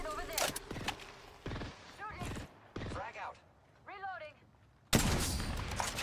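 Video game gunfire crackles in short bursts amid game sound effects, with a player talking over the action and a loud burst of shooting near the end.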